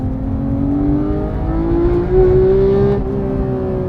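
A Porsche 991.2 911 GT3 engine revs hard in second gear, its high-pitched note climbing steadily and loud, close by, with a steady whirring drone underneath.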